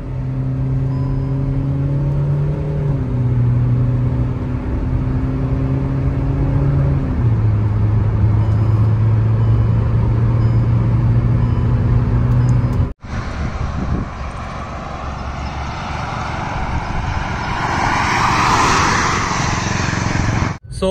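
A Kia Seltos and a Kia Sonet run a drag race: a loud, steady engine roar with rising and shifting tones, then a sudden break into rushing wind and road noise, with no talking.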